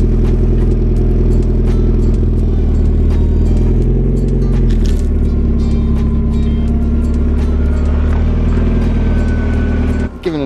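A Mazda Miata reversing a short distance, its engine idling steadily and close by with a low continuous hum and faint mechanical clatter, ending in an abrupt cut.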